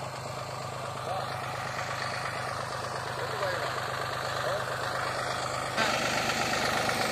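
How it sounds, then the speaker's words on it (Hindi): A Mahindra 265 DI tractor engine runs steadily at close range with a low, continuous drone while hauling a load of soil, its level holding even and rising slightly near the end. "अरे भाइयों यू ट्रैक्टर है देखो कितनी मिट्टी खींच रहा"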